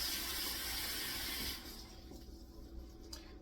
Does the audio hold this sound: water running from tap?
yes